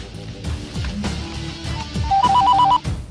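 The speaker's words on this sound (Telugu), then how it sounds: "వానికి ఫోన్ కలిపిరా." A telephone ringing as a call is placed, a loud electronic ring with repeated short bursts of beeping tones over a few seconds, heard alone without speech.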